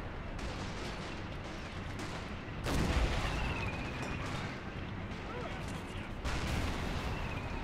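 Tank battle on the Eastern Front in a realism-modded war game, with Russian armor fighting advancing German tanks: a steady, dense rumble of distant artillery and gunfire, with heavier booming swells near three and six seconds.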